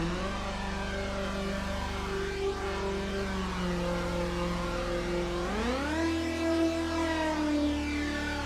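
A buzzy, harsh synthesizer lead from the Pop Essentials expansion for Imaginando DRC on iOS, holding sustained tones that glide upward in pitch near the end, bright and thick with overtones.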